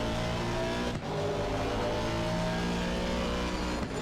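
The engine of a McLaren Artura Ultimate race car on the Nordschleife, sounding loud and close. It drones steadily at high revs with two brief dips where the sound cuts out momentarily, like a stutter.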